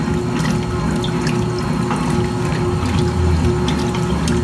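A 1980s Kenmore laundry center washing machine agitating a load on a cotton sturdy cycle, with a steady, loud churning swish of water and a constant motor hum running without pause.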